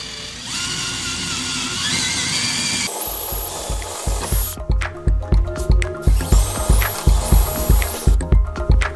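A power drill with a 1/4 inch bit drilling into a truck tailgate panel: a steady whirring run, then a series of rhythmic grinding pulses as the bit bites, close and loud.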